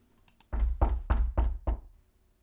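Five firm knocks on a door, evenly spaced and close, ringing out loud and alone with no talk over them.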